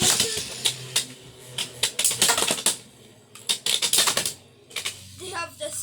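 Beyblade X tops Shark Scale and Golem Rock clashing in a stadium, a rapid run of sharp plastic clicks and clatters in bursts, close and fairly loud, with a voice briefly audible near the end.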